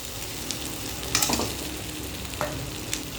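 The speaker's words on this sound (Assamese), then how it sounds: "সৰিয়হ পেষ্টখিনি ভজা কৰি দিম।" Mustard paste and spices fry in a pan for an Assamese small tingora fish curry, with a steady soft sizzle throughout and a few brief stirring scrapes standing out near and alone.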